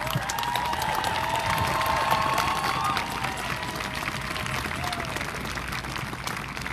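A protest crowd outside a state house applauds steadily, dense clapping mixed with cheers and shouts filling the space continuously and loudly.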